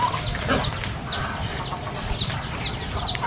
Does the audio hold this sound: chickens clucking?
yes